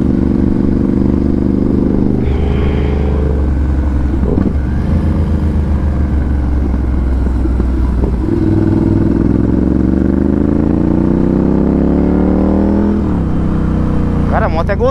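A Ducati 796 with a titanium exhaust being ridden hard: a loud, continuous engine drone whose pitch climbs through gear changes, with wind rush filling the background.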